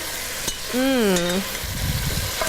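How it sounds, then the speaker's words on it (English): Peppers and pancetta sizzle in a pot for a one-pot Italian chicken dish as they are stirred. A steady close frying hiss runs under a brief rising-and-falling tonal whine, then a short rustle of stirring. "Let me give our little veggies here a little stir."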